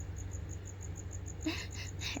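Crickets kept in a reptile cage chirp steadily in a quick, even pulse, with a few louder, closer chirps near the end.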